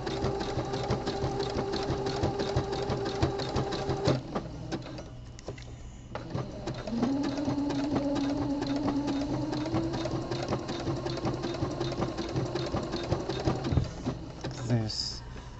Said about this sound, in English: sew a little bit slower over the crossover